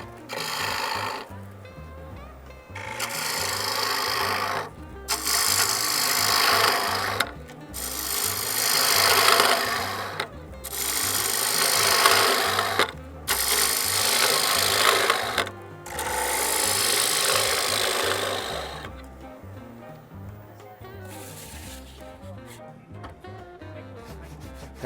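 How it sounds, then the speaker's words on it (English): A bottom bowl gouge cuts a large wooden bowl spinning on a lathe, giving loud rasping bursts of several seconds each, about five in a row with short pauses between, and quieter scraping near the end. "Then we change to a bottom bowl gouge."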